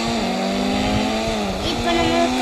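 Engine drone of a jeep in the Indian Bike Driving video game, a continuous loud synthetic motor tone that holds steady with slight pitch dips and rises throughout.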